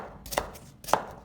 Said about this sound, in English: Using a knife, cut them into small chunks of different sizes.